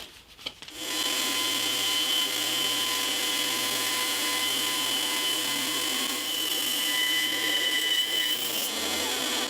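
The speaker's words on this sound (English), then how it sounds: "I'm hoping I can cut this accurately on the bandsaw here." A bandsaw cuts a wooden dovetail for a classical-style guitar with a steady, loud whirring and rasping drone that runs almost the whole way through after a brief start.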